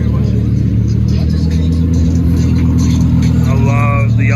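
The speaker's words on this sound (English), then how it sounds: "And the aftermarket exhaust sounds amazing on that." A yellow Audi R8 fitted with an aftermarket exhaust rumbles steadily nearby at a car meet, its deep engine note holding throughout while a voice briefly talks over it near the end.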